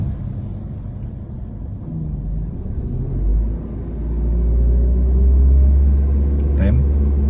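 A Mitsubishi Xpander with automatic transmission pulls away on a public road during a driving lesson, its engine rumble rising steadily and growing louder toward the end, with an instructor talking over the low drone inside the cabin.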